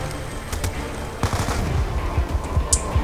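Gunfire in Call of Duty: Black Ops 2, sharp shots and short bursts popping over a low rumbling game soundtrack, with scattered impacts growing denser toward the end.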